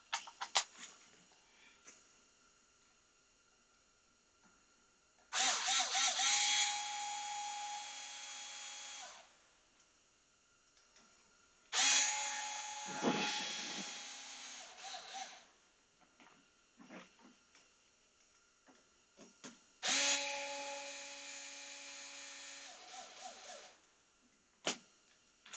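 A power driver runs in several whirring bursts of a few seconds each while assembling a LOSI TLR 8ight XT RC car. Small ticks and clicks of handling the parts come between the bursts, close and quiet overall.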